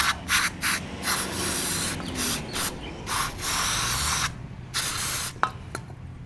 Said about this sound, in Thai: อันนี้ผมใช้สเปรย์ฉีดเบรกนะครับเนี่ย